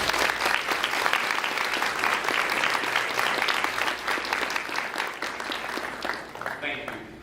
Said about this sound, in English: Seniors and guests, please give them a round of applause.